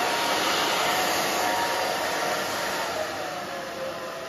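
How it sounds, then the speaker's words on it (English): A hair dryer blows steadily on very short, super-fine pixie-cut hair, a loud, close, continuous whoosh that eases off slightly near the end, with no talking. "So we'll just take this and just dry this up."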